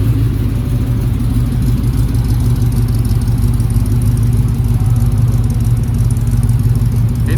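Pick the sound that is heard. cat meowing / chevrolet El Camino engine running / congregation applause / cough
chevrolet El Camino engine running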